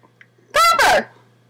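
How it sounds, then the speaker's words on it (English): A dog barks indoors, two loud, close barks in quick succession against an otherwise quiet room. "my dogs are barking and being loud"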